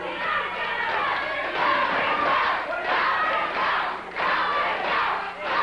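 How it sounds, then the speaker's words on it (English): A large arena crowd at a 1990 USWA/CWA professional wrestling match chants in loud, rhythmic unison, with repeated swelling phrases and brief dips between them, all in a roaring hall. "Go, Chris, go, say the crowd."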